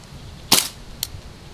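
An Umarex Legend Series P08 air pistol fires one sharp, loud crack at close range, followed about half a second later by a fainter short click or snap, against quiet outdoor background.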